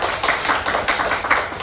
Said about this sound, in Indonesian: silahkan beri aplaus untuk Mas Huda